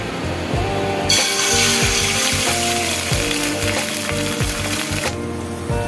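Eggs sizzling in a pan brushed with white oil for poached egg curry, a steady loud frying hiss that flares up as each egg goes in, with clinks from the pan.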